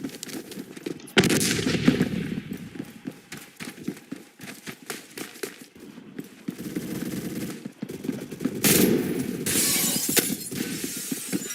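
Rapid gunfire bursts from the first-person shooter game Phantom Forces, sharp crackling volleys starting and stopping in irregular stretches, loud and close with brief quieter gaps between.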